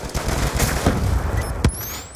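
Submachine gun fire in Black Ops 2, a fast crackling burst mixed with dull thumps and game noise, ending with a sharper report near the end.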